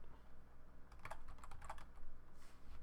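Quiet, rapid keystrokes on a computer keyboard tap out in short bursts during a Minecraft modded tech session, close and alone with no talking.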